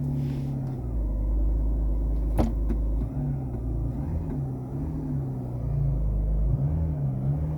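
A Jeep engine idles with a deep, close rumble, and its tone shifts and wavers as the transmission is put into reverse. There is no talking.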